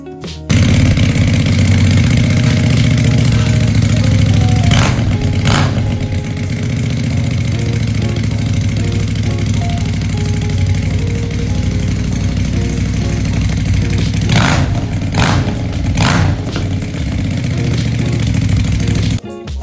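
A Keeway motorcycle engine idles with a loud, steady, close rumble, broken by two short bursts of throttle revving partway through.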